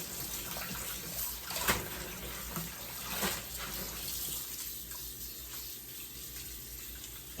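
Tap water runs into a sink as collard greens are washed, a continuous splashing flow with occasional louder gushes and sloshes from the leaves being handled, close and moderately loud.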